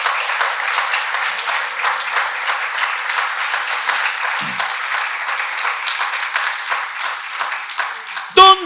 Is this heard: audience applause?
yes